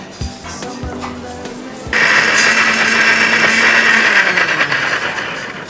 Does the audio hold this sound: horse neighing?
no